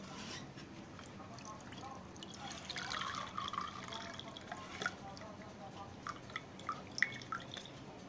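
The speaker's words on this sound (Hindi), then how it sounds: "इसको मैं छान लेती हूँ।" Boiled ginger and curry leaf water being strained, quiet pouring followed by scattered close drips and small splashes falling at uneven intervals.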